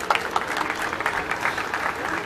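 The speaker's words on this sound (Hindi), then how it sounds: "डेविड के लिए एक बार तालियां हो जाए।" Brief, fairly quiet applause from an audience during a live interview, a scattered patter of clapping lasting about two seconds.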